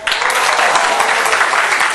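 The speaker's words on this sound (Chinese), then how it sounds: "我们给他拍拍手。" A university lecture class in electromagnetics applauds a student, dense steady clapping from many hands filling the room, loud and continuous.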